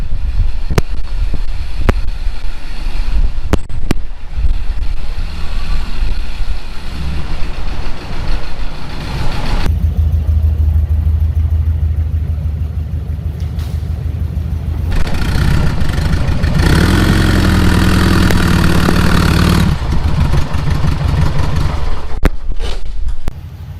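A 1600cc VW Bug engine runs strapped to a Dynojet dyno roller, loud and continuous, idling and then revving in sustained pulls that rise and fall over the roller's whine.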